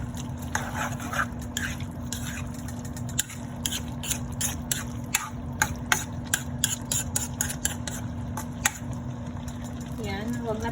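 Squid adobo with oyster sauce, sugar and salt is stirred in a pan, producing repeated scraping strokes over a steady low sizzle and hum, with a voice briefly heard.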